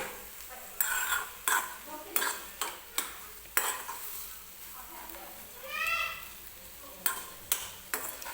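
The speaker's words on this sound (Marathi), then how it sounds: "शेंगदाण्याचं कूट टाकल्यानंतर सुद्धा मी व्यवस्थित हे भरीत मिक्स करून घेते." Mashed eggplant bharit being mixed with crushed peanuts in a pan, with repeated sharp scraping and tapping of a spoon against the pan at a steady pace and a faint sizzle underneath.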